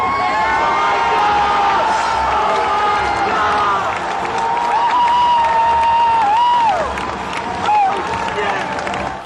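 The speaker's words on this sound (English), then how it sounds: "It was one heck of a crowd reaction, to say the least." Crowd at a Zelda game reveal erupts in sustained loud cheering, whooping and applause, a dense roar of many voices with individual shouts rising above it throughout.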